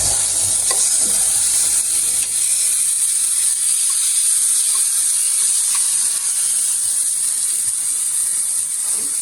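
Vegetables with a medium tomato and carrot sauté in a pan for upma, a loud, even, hissing sizzle that holds steady throughout, with faint scattered stirring clicks and no talking.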